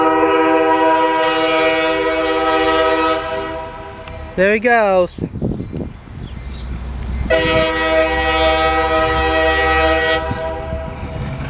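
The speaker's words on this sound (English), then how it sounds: "This is the CSX westbound light engine move on the CSX Indianapolis line." A lone CSX westbound light engine locomotive on the Indianapolis line in Marion, Ohio, sounds its horn in two long loud blasts as it rumbles past close by, with a person briefly speaking between them.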